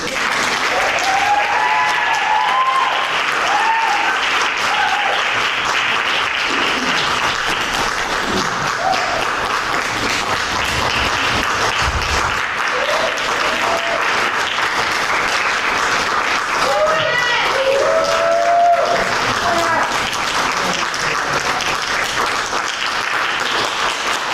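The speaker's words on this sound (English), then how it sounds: "So another round of applause, please." Sustained audience applause fills a pageant hall ahead of an intermission, dense steady clapping lasting throughout with faint voices and a few whistles poking through.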